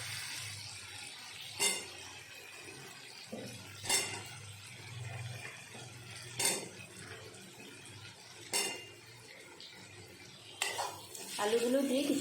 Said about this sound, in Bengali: আলুগুলো দিয়ে কিছুক্ষণ কষিয়ে নেব।